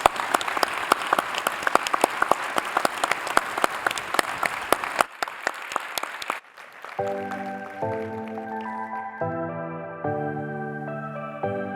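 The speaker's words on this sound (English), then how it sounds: "Let's have a round of applause for our panelists." Audience applause for conference panelists at the closing plenary of an impact investing conference: dense clapping fills the first six seconds, then stops abruptly and gives way to a short music sting.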